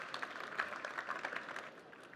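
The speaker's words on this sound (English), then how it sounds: "let's give Hilary a round of applause" A lecture-hall audience at an architects' day gives a short round of applause, a soft, distant patter of many hands that fades within a couple of seconds.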